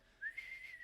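A short, bright whistle from a person, one rising then steady tone lasting under a second, close and clear against a quiet background.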